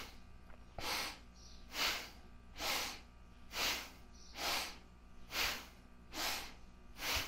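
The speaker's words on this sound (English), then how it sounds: "hold the breath, squeeze Mula Bandha. Exhale, hug the leg into the chest" Rhythmic, forceful breaths through the nose during a kundalini yoga exercise, about eight steady cycles of inhale and exhale, close and clear with no talking.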